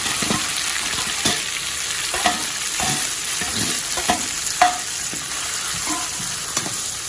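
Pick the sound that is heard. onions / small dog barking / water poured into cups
onions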